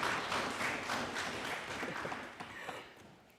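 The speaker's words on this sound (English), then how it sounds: "Please give them a round of applause as they exit the center." Audience applause rolls through a debate chamber during a special International Men's Day sitting in Tobago, a dense, moderately distant wash of clapping that gradually thins and fades.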